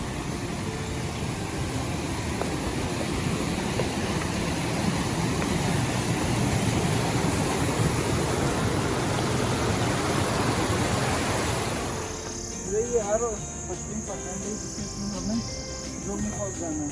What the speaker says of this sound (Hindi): बीच में आपको ना छोटे छोटे झरने मिलते रहेंगे ऐसे